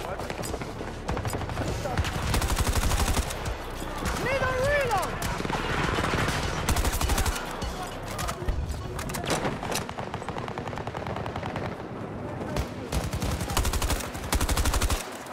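Rapid gunfire in the video game Battlefield 2042, bursts of automatic shots and scattered single cracks crowding the mix, loud and near, with brief lulls between volleys.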